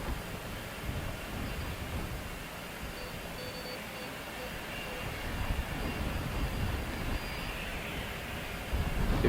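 An aircraft at Luton Airport on a blustery day makes a low, steady rumble from some distance, mixed with gusting wind noise that swells toward the end.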